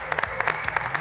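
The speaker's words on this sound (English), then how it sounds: "So let's all give them a huge round of applause." Audience applause at a holiday extravaganza show, a brief burst of continuous crowd clapping with distinct claps poking through.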